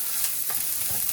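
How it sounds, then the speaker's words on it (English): Chopped onions sweating in a pan over lowered heat, giving a constant gentle sizzle with faint stirring scrapes, close and fairly quiet, no voices. "And we're just going to sweat out the onions."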